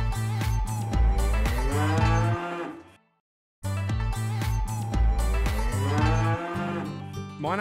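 Cattle moo repeatedly in a Cambodian village, loud and close, with long drawn-out calls that fill the air, a brief silent gap, then more mooing that overlaps and continues to the end.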